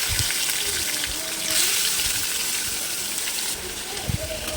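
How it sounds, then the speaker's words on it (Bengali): Marinated chicken goes into hot ghee in a wok over a high gas flame, giving a steady, loud sizzling hiss that runs throughout with small spits and crackles. "গ্যাসের ফ্লেমটা হাই রেখে চিকেনগুলোকে ভেজে নেব"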